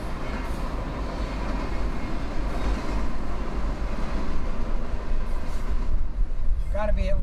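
A heavy CSX container stack freight train of well over a hundred cars rumbles past close by, a loud steady roar of rolling cars with rhythmic rattling, ending with a brief high squeal.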